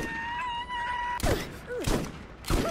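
Automatic shotgun fire in the video game Borderlands, three loud heavy blasts in quick succession after a steady tonal hum, with faint game effects between shots.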